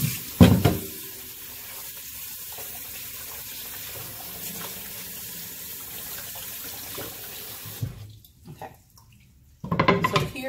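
Raw fish being rinsed under a running kitchen tap, a steady splashing stream of water with a few clunks, then a sudden stop and a short gush again at the end.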